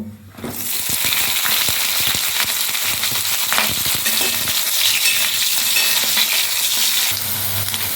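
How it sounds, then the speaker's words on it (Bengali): Brinjal slices frying in oil in a kadai, a loud continuous sizzle with scattered pops and crackles, plus a few brief clatters near the start, heard without talk. "বেগুনগুলোকে আমি ভেজে নেবো"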